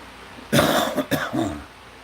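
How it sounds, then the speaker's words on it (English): Two sharp coughs close by, followed by a brief throat-clearing rasp. "I didn't cough into my elbow"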